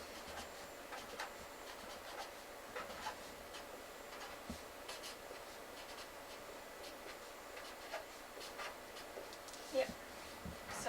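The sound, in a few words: writing a name backwards on a board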